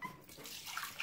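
Water splashes and trickles as it is poured for puppies indoors, a soft continuous stream with small bright splashes near the end, fairly quiet and close.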